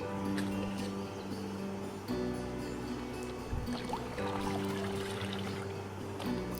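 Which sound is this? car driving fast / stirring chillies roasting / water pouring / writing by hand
water pouring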